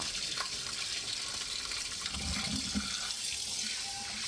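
Blanched mung bean jelly rinsed with cold water in a sieve: a continuous close pour and splash of running water with some heavier gushes partway through, no talking.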